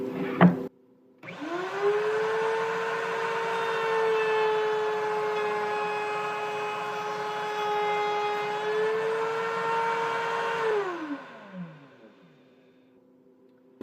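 A router table with a high-speed bit cutting a rabbet in wood for a finger joint box spins up after a click into a loud, steady, high whine, holds for about ten seconds, then winds down with a falling pitch.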